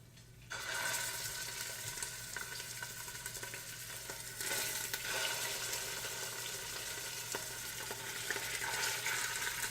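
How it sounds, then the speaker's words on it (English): Braciole dropped into a pot of golden garlic sets off a bright, steady sizzle of frying that jumps in loudness as the meat goes in and keeps crackling close and continuous, with no talking. "Now it's time to throw the Braciole into the pot."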